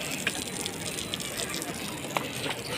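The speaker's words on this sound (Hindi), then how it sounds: "ये पानी और ये टूटियाँ और ये बैठने की जगह" Water runs steadily from several taps at a rooftop wudu ablution area of the Haram in Makkah, a continuous broad gushing hiss with faint clinks, and voices talk underneath.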